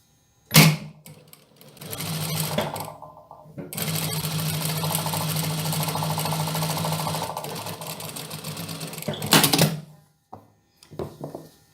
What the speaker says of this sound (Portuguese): Agora eu faço essa minha costura do centro.